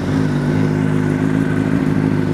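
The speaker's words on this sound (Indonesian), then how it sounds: "Ini motor Jepang Honda." A Honda Japanese racing motorcycle set up for Asian championship racing, its engine idling loud and close with a steady, throbbing mechanical drone and no talk.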